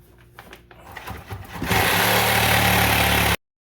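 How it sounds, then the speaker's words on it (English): A drill bores holes through a house wall during a dryer vent install, starting with scattered low knocks and buildup, then a loud, steady grinding whir for under two seconds that cuts off abruptly. "I'm going to drill a hole here, here, and then here"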